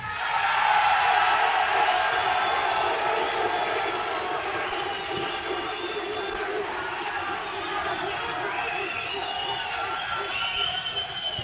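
Packed audience at a 1987 DJ battle cheering for a performer, a sustained wash of shouts, whoops and whistles, loud at first and settling into a steady roar.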